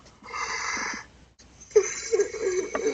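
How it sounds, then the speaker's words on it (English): A person yawns late at night, up close: a long, drawn-out breathy yawn, then a short pause, then a second voiced, groaning stretch of breath. "I'm sorry I'm about to yawn because it's 12:47 a.m."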